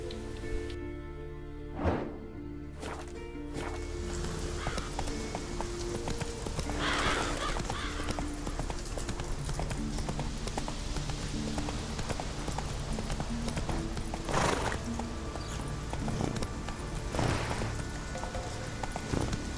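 Hooves from a video-game horse clip-clop steadily on a bridge, with several sharp whinnies and snorts breaking through the rhythmic footfalls, all fairly close and loud with no talking.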